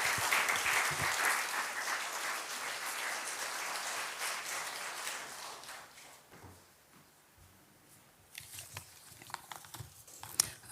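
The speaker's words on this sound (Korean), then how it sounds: "혜영 자매 나오실 때 여러분 큰 박수 또 부탁드리겠습니다." A church congregation at a special dawn prayer service applauds to welcome a speaker, with a strong burst of clapping that fades away into scattered small noises.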